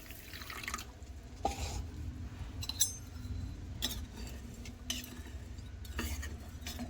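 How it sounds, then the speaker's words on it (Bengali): A spoon stirs a cornflour and sugar mixture with water in a bowl, giving soft repeated clinks and liquid swishes, quiet and close with no talk. "ভালোভাবে গুলিয়ে নিচ্ছি যাতে চিনিটা গুলে যায়।"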